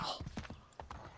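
Horse hooves clip-clop on the ground in Assassin's Creed 3, a quick uneven run of soft thuds heard fairly faintly under someone talking.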